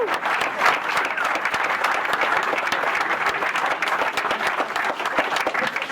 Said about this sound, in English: And let's give them a round of applause right now.